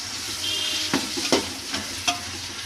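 Tomatoes and green chillies sauté in oil for vegetable biryani, a steady close sizzle broken by a few sharp spoon scrapes against the pan, no voices.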